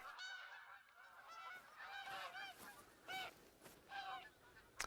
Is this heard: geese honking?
yes